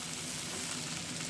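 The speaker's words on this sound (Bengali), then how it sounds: "এর মধ্যে আমি ভাজা সবজিগুলো দিয়ে দিচ্ছি।" Fried vegetables sizzle in oil with a paste of tomato, onion, green chili and ginger in a wok, a soft, even crackle that runs without a break for a moment.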